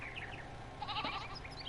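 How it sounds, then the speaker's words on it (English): Goats in the Farming Simulator 19 video game give a couple of short bleats over a low background hum, moderately close, with no talking. "There's some goats in there."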